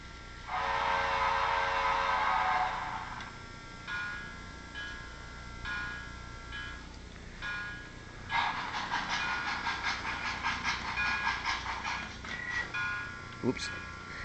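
Model Union Pacific 119 locomotive with sound decoder, heard up close: a loud whistle blast, then steady hissing steam and rhythmic chuffing in the quiet room, ending with a brief sharp clank.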